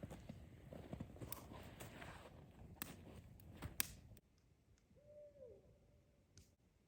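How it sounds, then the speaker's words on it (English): Outdoors at night at a hot-tent winter campsite, crunching footsteps and rustling are followed by quiet, then a single faint, distant owl hoot. "Beautiful owl."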